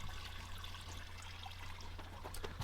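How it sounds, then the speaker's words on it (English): Engine coolant drips and trickles steadily from a removed hose on a Toyota MR2 Spyder during engine removal, a faint continuous liquid trickle over a low hum in a garage. "So we just removed the hose over there that you can see, and according to that we're letting it drip out"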